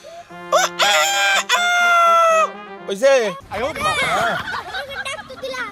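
A voice mimics a rooster's crow in one long, loud, sustained call, followed by a shorter rising cry. Excited talking and laughter from several people come right after.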